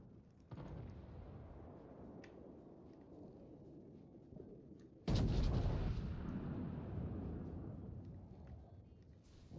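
Heavy battleship guns boom in the naval combat game World of Warships, a muffled rumble of distant fire followed by a loud, close salvo blast at mid-clip that rolls on with a long decaying roar.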